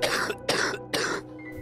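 A ghost in a horror story coughing three times in quick succession, harsh throaty bursts with short pauses between them, close and clear with no talk.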